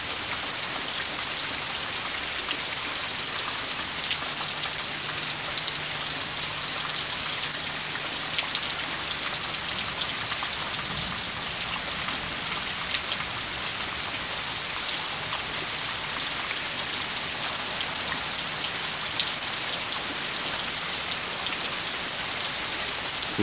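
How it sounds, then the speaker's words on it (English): Heavy rain pours steadily and evenly for a long stretch, a dense, hissing wash with a faint low hum in the distance and no talking. "now let's see if you can hear the rain"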